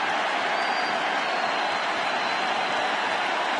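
Scattered clapping from a stadium crowd at the end of an inning during a 2010 World Series game, a steady broadband wash of applause.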